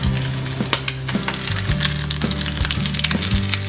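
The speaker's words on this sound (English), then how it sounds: "Get some nice colour into the French toast, the pan perdu." French toast (pain perdu) sizzling steadily in a hot pan for a dessert, a continuous dense crackle with occasional sharper pops and a low hum beneath, close and fairly loud with no talking.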